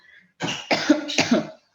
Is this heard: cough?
yes